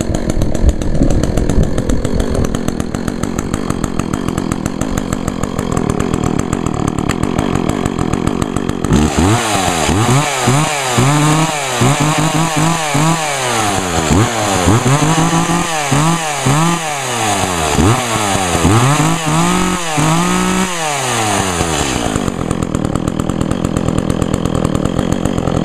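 A chainsaw engine idles with a steady buzz, then revs repeatedly with rising and falling whines before settling back to a constant drone.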